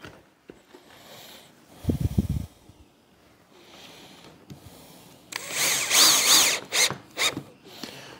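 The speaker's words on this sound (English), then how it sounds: "we're going to drive in a screw to hold everything like that" A power drill drives a screw into barn door boards in two bursts, a short low whir followed by a louder, longer grinding spin that stops and starts. Quieter handling noises fill the gaps between them.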